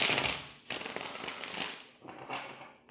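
Tarot cards riffle and flutter in quick bursts, a soft papery shuffling heard close up.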